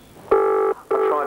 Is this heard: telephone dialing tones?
yes